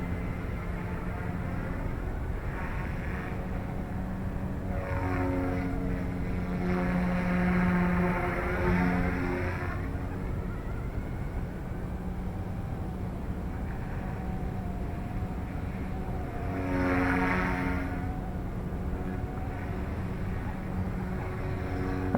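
A Yuxiang F150 RC helicopter with 155mm green rotors flies steadily, giving a continuous, fairly loud motor whine and rotor hum that rises and falls in pitch as it maneuvers, with no voices.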